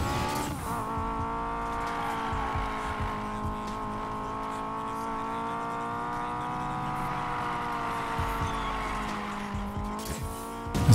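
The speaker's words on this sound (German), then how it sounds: "Das bergauf driften kann der Wagen überhaupt nicht." A car in the Need for Speed Payback video game drifts uphill, its engine holding a loud, steady, tonal drone that rises slightly toward the end, with a faint scrub of sliding tyres beneath.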